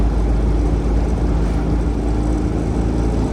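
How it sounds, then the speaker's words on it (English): A Citroen 2CV engine idles at low revs after a carburettor primary jet change, a loud, steady low rumble that runs smoothly without sputtering, close by and alone. "when the revs are low, it's not sort of spluttering, it's like it's being fueled properly"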